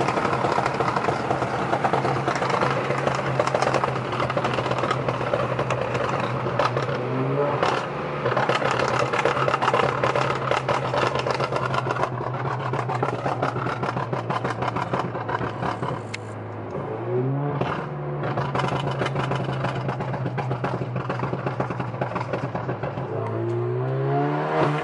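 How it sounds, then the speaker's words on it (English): Alfa Romeo Giulia with a turbo engine, running on 91-octane fuel, revving loudly and continuously, its pitch rising and falling through several rev sweeps with a steady drone underneath. "You gotta hear that turbo."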